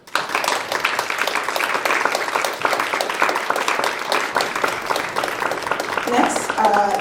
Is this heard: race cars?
no